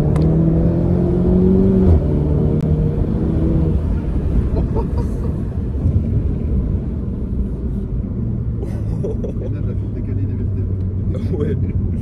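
A Cupra Leon with Brembo brakes is driven and brakes hard, its engine rumbling and road noise droning steadily inside the cabin, loud and close, while people talk throughout.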